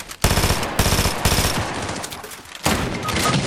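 Rapid automatic gunfire from the Fortnite video game, loud and dense bursts of shots with brief gaps, with no talking over it.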